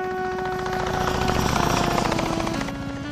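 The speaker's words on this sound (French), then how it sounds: "C'est l'hélicoptère." A helicopter in a French radio-style drama, its rotor chop throbbing rapidly and swelling louder mid-way before easing back, heard close and alone with a steady mechanical whine beneath.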